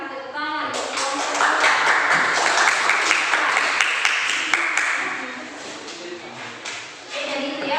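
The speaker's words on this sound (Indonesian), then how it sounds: "terima kasih tepuk tangan untuk kelompok" A group claps in sustained applause for several seconds after a group presentation, with faint voices around it before and after.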